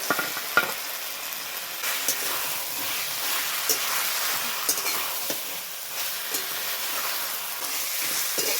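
Marinated chicken sizzles in a pan alongside papaya already fried with raw ground spices, giving a steady, close hiss with occasional spatters and stirring clicks and no voices.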